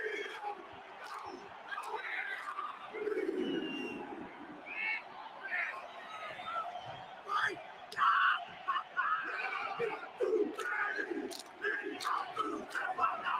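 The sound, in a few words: crowd at England versus New Zealand match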